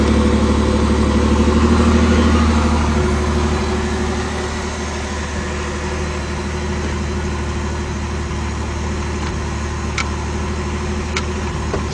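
A Pontiac Fiero V6 with about 130,000 km runs at a steady, fairly loud idle, with a low continuous engine drone and a slight rise early on before it settles into an even rumble.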